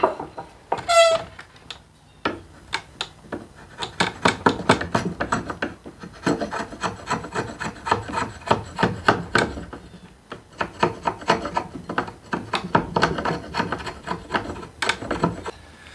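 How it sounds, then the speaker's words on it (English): A draw knife shaves wood from a steam-bent hatchet handle, with repeated rasping strokes in uneven bursts and short pauses between passes, close and fairly loud, with no talking. "The draw knife makes this really easy work"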